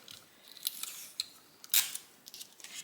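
Scissors snip through paper or ribbon while an ornament is being hung, a few scattered crisp cuts with one louder sharp snip near the middle, close and fairly quiet.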